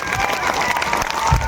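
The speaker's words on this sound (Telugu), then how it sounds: "ఆయన గట్టిగా క్లాప్స్ కొట్టాలి అందరూ" Crowd applause at a school annual day celebration in Piduguralla, a steady dense patter of many hands clapping with voices mixed in beneath.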